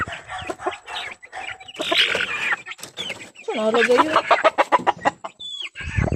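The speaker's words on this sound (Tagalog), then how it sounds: "Oh, may tandang." A rooster clucks and crows close by among other chickens, with people talking over and between its calls.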